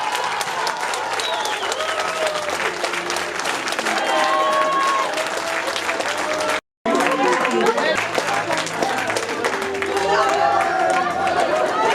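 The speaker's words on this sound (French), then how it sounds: "Un tonnerre d'applaudissements pour le présentateur télé." An audience at a local talent show gives a TV presenter a long, dense round of applause and cheering. The clapping is loud and continuous, with a brief cut partway through, and chatter runs underneath.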